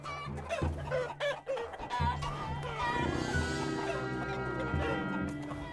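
Chickens clucking in the Totally Accurate Battle Simulator video game, repeated squawks and clucks during a battle with game music and a voice mixed in.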